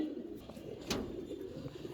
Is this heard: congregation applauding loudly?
no